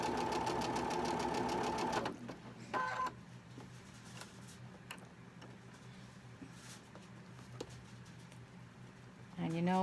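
A sewing machine runs fast through bias-cut cotton fabric for about two seconds, a loud rapid mechanical whir, then stops, leaving soft handling clicks and a brief restart near the end.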